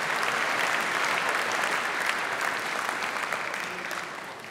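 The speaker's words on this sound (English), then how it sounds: "And once again, Desmond Tutu is applauding for them." An audience applauds the winners at the International Children's Peace Prize ceremony, a dense, even wash of clapping from a large hall that slowly fades toward the end.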